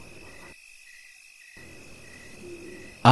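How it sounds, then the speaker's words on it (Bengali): Crickets chirping at night along a dark, silent road, a cartoon sound effect: a steady, high, thin trill that drops out completely for about a second, then resumes alongside a faint low rumble. "ঝিঝি পোকাদের ডাক আজ খুব আগ্রহ নিয়ে শুনছি।"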